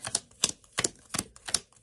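Playing cards are shuffled by hand, making five quick, evenly spaced snapping riffles close up, with brief quiet gaps between them.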